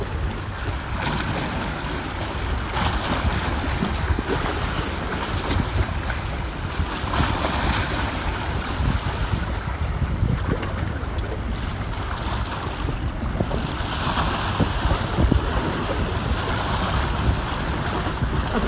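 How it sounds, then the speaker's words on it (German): Sea waves rolling in and crashing against rocks and stones along a coast, a steady roar of surf with gusty wind buffeting the microphone throughout, no voices. "wenn da die Wellen daherkommen und das Geräusch, wenn die da auf die Steine schlagen, auf die Felsen"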